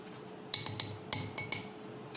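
A utensil stirs powdered sugar into whipped chickpea aquafaba, clinking repeatedly against a glass bowl. The crisp taps come in an uneven rhythm, loud and close, with no talk.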